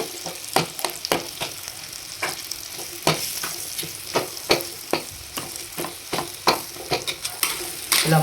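Boiled eggs cut into pieces being stirred through a spicy masala in a pan with a flat metal spatula, with frequent sharp scraping strokes over a steady sizzle, fairly close and with no talk.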